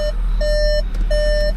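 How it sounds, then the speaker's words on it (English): A car's electronic warning chime beeps three times in a steady pattern, loud and close, over a low engine hum. "Since it's a newer car, it's gonna beep at you for everything."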